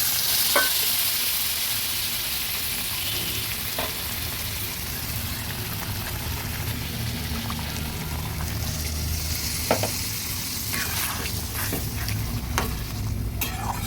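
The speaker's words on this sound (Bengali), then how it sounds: "ভালোভাবে নেড়ে দিলাম।" Chickpeas and paneer being stirred in a frying pan with their boiling water added, giving a steady, close sizzle and bubbling with repeated scraping strokes throughout, no talking.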